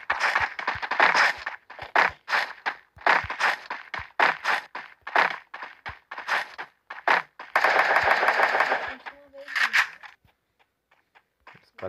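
Pistol gunfire rings out in a video game as a dense stream of sharp, rapid cracks fires in quick bursts, with one longer sustained burst near the end before the shots stop and the sound fades, loud and close with no talking.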